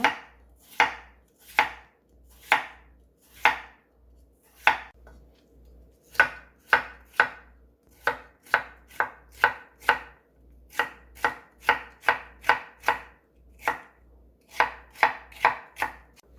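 Potatoes being julienned with a knife on a cutting board, a close, loud series of crisp blade strikes in steady chopping rhythm, about thirty cuts with brief pauses, no talk.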